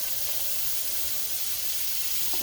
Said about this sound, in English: it's probably going to sizzle. Yep, look at that.